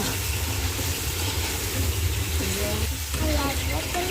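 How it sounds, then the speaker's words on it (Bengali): Spiced potatoes with a splash of water being stirred and fried in a pan, a loud continuous sizzle with scraping spoon strokes close by, over a low steady hum. "তো একটু জল দিয়ে ভালোভাবে মশলাটা আলুর সঙ্গে মিশিয়ে একটু কষিয়ে নেব।"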